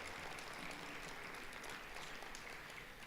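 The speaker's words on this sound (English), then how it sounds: "So big clap for yourselves" A conference audience at the Phoenix World Burn Congress breaks into steady, dense applause that stays even and full with no pauses.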